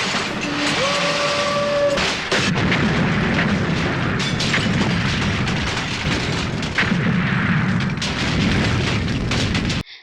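In the 1996 Indian film, a plane and a jeep are blown up: a brief tonal hum gives way to a loud, sustained rumbling blast that roars on for several seconds before cutting off.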